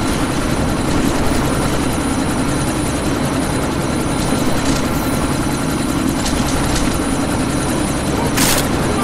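Helicopter in the game Deus Ex: Mankind Divided, set in a sandstorm, a loud continuous rotor thrum and engine drone filling the whole stretch without letting up.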